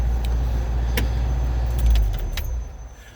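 The 2-litre Type 4 engine of a 1979 Super Viking camper idles with a low rumble, then shuts off after a couple of seconds, leaving near-silence, while keys jangle in the ignition.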